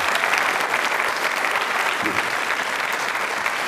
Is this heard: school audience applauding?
yes